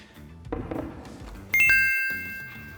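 Phone text message notification chime rings out clearly, a bright ding with a lingering tone, after some soft bumps and muffled background sounds.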